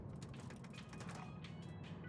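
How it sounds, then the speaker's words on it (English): Elevator machinery in The Outer Worlds video game grinds and creaks with ratcheting mechanical clicks over a low steady hum, moderately close and unbroken. "The working elevator goes both up and down."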